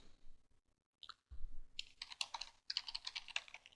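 Fingers type on a computer keyboard in a short, irregular burst of quiet clicks and key taps, with a brief pause before the typing resumes faster, close and soft.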